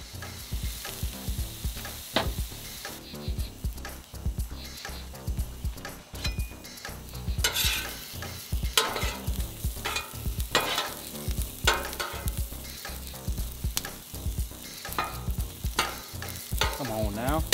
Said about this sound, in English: Tomatillos down to roast up for this salsa verde